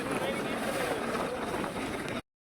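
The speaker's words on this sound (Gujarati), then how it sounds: "બોટ આવી ગયું છે ને આપણે બધા બોટમાં બેસી ગયા છે ને જાય છે" A passenger boat heading out across the sea to the island village of Shiyal Bet gives a steady, close rumble of engine and wind noise that stops abruptly near the end.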